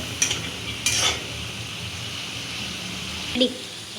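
Spice paste with coriander is stirred and sautéed in a pan for a tengra fish bhuna, making a soft continuous sizzle with a few sharp utensil scrapes and clinks against the pan, with a voice talking nearby.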